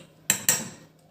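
Two sharp clattering hits close together, like rice tipped from a metal utensil into a pot while cooking paneer dum biryani, ringing briefly in an otherwise quiet kitchen.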